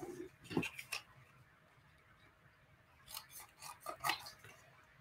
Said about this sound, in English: I'm going to just take and fussy cut it